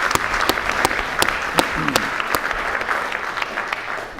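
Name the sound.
audience applause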